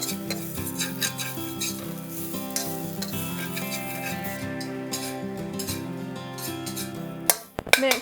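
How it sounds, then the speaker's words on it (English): Coconut flakes toast in a pan while being stirred steadily, a close scraping and rubbing with a soft sizzle underneath, ending in a few sharper clinks of the utensil against the pan. "Next, we are going to toast our coconut flake."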